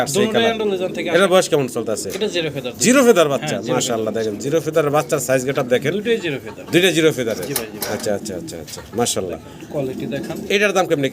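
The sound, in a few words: pigeons cooing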